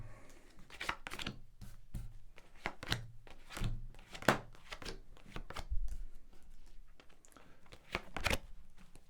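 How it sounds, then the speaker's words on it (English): Ten tarot cards laid down one after another on a table, a series of soft close slaps and light thuds in an irregular rhythm, quiet and with no voices. "So going to lay down your 10 cards"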